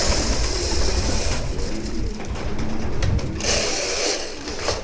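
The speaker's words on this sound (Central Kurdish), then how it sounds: "25 ساڵە کاری ڕاگرتن و بەخێوکردنی کۆتر دەکات" Pigeons in a keeper's loft housing about 500 birds, with soft bird calls amid continuous broadband rustling and flutter, fairly loud and close, with no talking.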